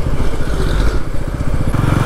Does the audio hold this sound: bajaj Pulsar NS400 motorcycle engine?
yes